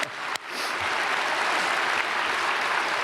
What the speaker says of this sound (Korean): 크게 한번 박수하십시오.